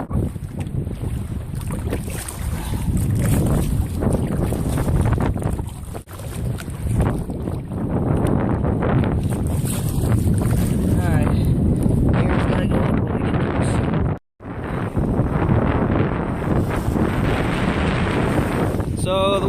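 Strong, high wind buffets the microphone during kayak camping on a lake at Land Between the Lakes, Kentucky. It is a loud, continuous roaring gust with water sloshing beneath, briefly cutting out once near the end.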